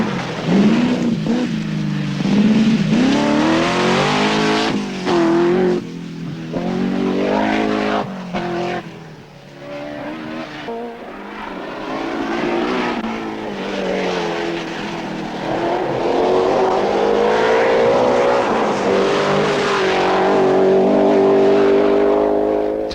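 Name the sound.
Triumph TR7 V8 rally car driving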